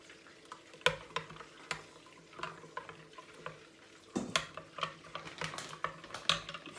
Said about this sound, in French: Il faut bien mélanger jusqu'à obtenir. La pâte doit être uniforme. On ne veut pas des grumeaux. Il faut bien remuer.